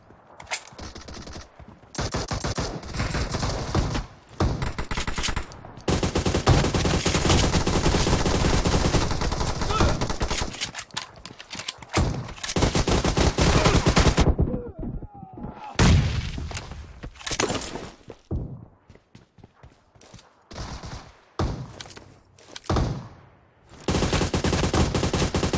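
Rapid bursts of automatic gunfire in PUBG, loud and dense, with stretches of sustained firing broken by short gaps and a brief voice.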